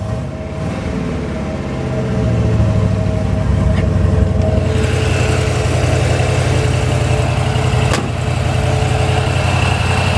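A 1972 Chevrolet Corvette T-top with roller rockers, running on pump gas, settles into a loud, steady, throaty idle rumble up close, swelling slightly after the first couple of seconds, with no talking.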